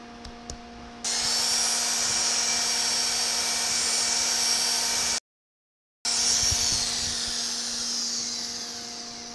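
A grinder-type polisher whines steadily at close range as a 1000 grit pad works the bullnose edge of a porcelain paver tile, a loud high-pitched drone that cuts out briefly and then resumes.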